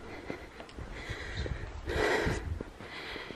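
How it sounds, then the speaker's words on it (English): Heavy, labored breathing after a steep uphill hike in the Smokies, faint, close puffs and snorting exhales with a louder gasp midway, over outdoor background rustle. "Excuse my heavy breathing."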